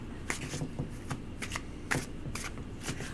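A deck of tarot cards is shuffled by hand up close, with repeated riffling bursts and soft slaps in an irregular rhythm over a faint background hum.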